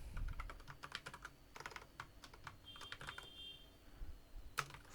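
Typing on a computer keyboard while writing PHP code, heard as a steady patter of close, fairly quiet key clicks with brief pauses and a few sharper taps, no voice over it.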